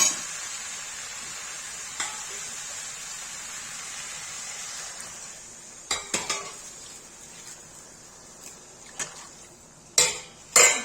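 Okra and potatoes stir-fried in a pan for a spicy aloo bhindi curry: a soft steady sizzle under scattered sharp clinks and scrapes of a spoon against the pan, with a few louder knocks near the end.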